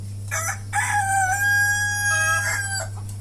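A rooster crows loudly and close by at a native chicken farm, one full drawn-out cock-a-doodle-doo over a steady low background hum.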